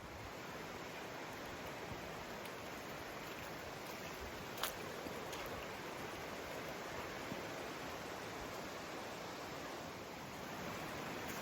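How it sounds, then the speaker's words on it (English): Hemlock Brook running through woodland in Morgan Hill State Forest along the Onondaga Trail, a steady, fairly soft rushing wash of flowing water that continues unbroken without talk. "it now follows Hemlock Brook, and the water's running nicely"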